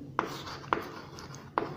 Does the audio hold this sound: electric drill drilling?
no